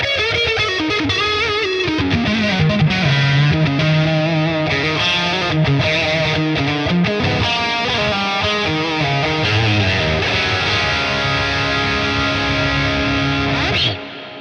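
Electric guitar through the Neural DSP Archetype Abasi amp plugin plays a dense, continuous distorted passage of layered notes and chords, loud and steady for the whole stretch, cutting off right at the end.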